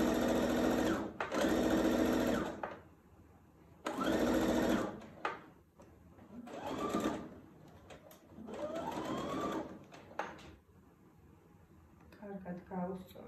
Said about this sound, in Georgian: მაგას დაიწყეთ თავიდან კერვა.